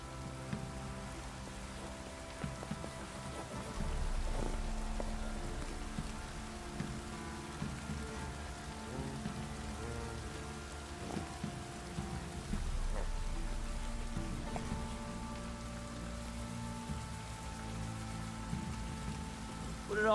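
Rain patters steadily in The Witcher 3: Wild Hunt, a soft continuous wash of drops under quiet, droning game music, with a few low swells. No one speaks.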